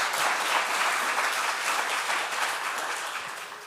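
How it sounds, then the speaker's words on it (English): An audience claps for debate candidates in dense, sustained applause that fades slightly toward the end. "Now you can go ahead and clap for them if you want to."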